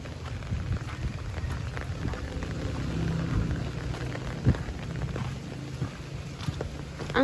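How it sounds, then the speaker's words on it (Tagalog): Heavy monsoon rain pours without letup over a flooded town, a dense steady wash of noise with a faint thump partway through and no voices. "Limang araw na sigurong walang tigil yung ulan."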